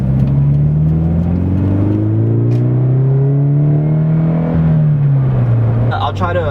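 A manual car's engine drones steadily while driving on an empty one-way road, its pitch rising and falling with the revs, then shifting abruptly near the end as the gears change.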